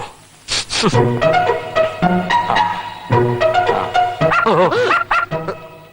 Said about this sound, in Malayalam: ഒരു പന്ന പട്ടി പെറ്റ് കിടക്കുക.